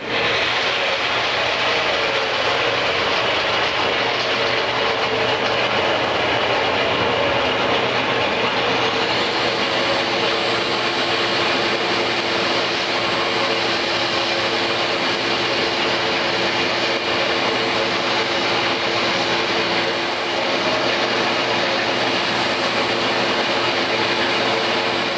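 A lathe spins a blue acrylic slimline pen blank at about 600 rpm, giving a loud, constant motor hum with steady tonal whine that holds unchanged throughout.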